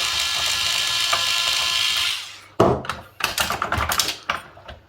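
A Parkside cordless screwdriver driving a screw, a steady whirring motor for about two seconds, then a brief pause followed by a run of sharp, close clicking and ratcheting bursts.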